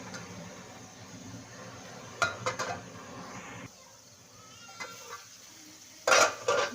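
A lid clatters down over a pot of chana dal and spinach cooking in oil, giving a sharp metallic clank near the end. Fainter kitchen clinks and a soft sizzle sound before it, and nobody speaks.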